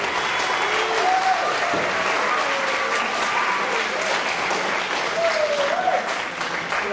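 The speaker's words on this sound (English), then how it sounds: "Coach Bobby Pruitt, give a nice round of applause" Steady, sustained audience applause from an indoor crowd at a school community event, loud and continuous for several seconds with some faint voices mixed in.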